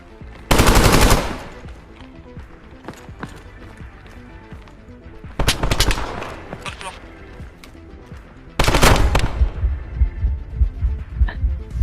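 Gunfire in an extraction-style first-person shooter game: three loud bursts of rapid automatic fire separated by quieter gaps, the last burst followed by a string of rhythmic thumping shots.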